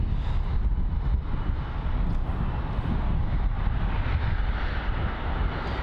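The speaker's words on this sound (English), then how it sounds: "Get a nice close up on the Turkish Airlines A330. That's taxiing over to the gate." A Turkish Airlines Airbus A330 taxiing at Heathrow, heard as a steady, distant jet rumble blended with wind buffeting on the microphone, continuous and unbroken throughout.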